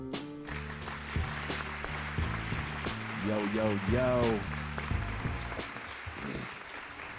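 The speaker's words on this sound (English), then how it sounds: "Round of applause." A small group claps for a podcast guest in a brief round of applause, with someone calling out and voices talking over and after the clapping.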